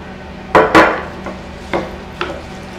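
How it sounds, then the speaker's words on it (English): Kale and mushrooms being mixed with oil in a bowl: a couple of loud knocking clatters followed by several lighter taps and scrapes against the bowl, irregular and close, with no talking. "And mixing it up. Make sure it's all coated."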